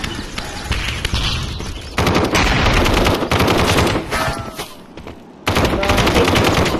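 Gunfire in the VR shooter Aim XR, loud rapid bursts of automatic fire with brief pauses between volleys and another sustained burst near the end.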